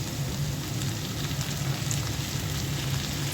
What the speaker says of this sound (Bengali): পেঁয়াজটা হালকা ভেজে নিলাম, বেশি ভাজবো না। দিয়ে দিচ্ছি পুঁই শাক